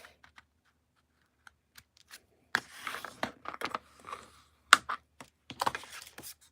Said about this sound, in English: so we'll take our Flirty Flamingo card base and fold this in half